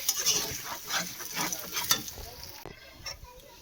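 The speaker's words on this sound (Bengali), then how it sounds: "এই যে হালকা তেল দিয়ে চাউমিনটাকে একটুখানি শর্টে করে নিলাম" Chow mein noodles tossed lightly in a little oil in a pan, a close sizzle with repeated scraping stirs and a brief clatter partway through.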